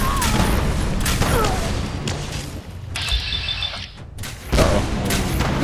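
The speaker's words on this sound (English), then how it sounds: "we blew up the grenade in his hand" Explosions and gunfire ring out in Fallout 4 with the Sim Settlements 2 mod as a grenade goes off, a string of loud booming blasts and bursts of shots with short gaps between them.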